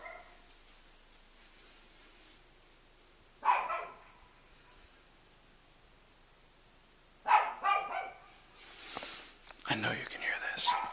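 A Pekingese dog barks at night, in short bursts of sharp yips separated by quiet gaps, growing busier toward the end. Faint whispering can be heard in the background.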